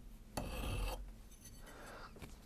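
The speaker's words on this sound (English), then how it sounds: "I actually started filing off this back edge a little more" A metal file rasps against the edge of a Smith & Wesson 1917 revolver part in two short, close strokes, the first harsher and louder, with no talk.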